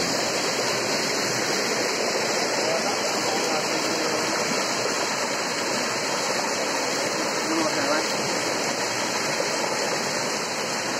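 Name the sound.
river water flowing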